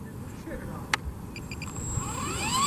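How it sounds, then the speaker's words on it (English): The electric motor of an RC helicopter with carbon fiber blades spins up outdoors in a light breeze. A rising whine climbs steadily over rumbling wind noise. "So we're gonna start the motor"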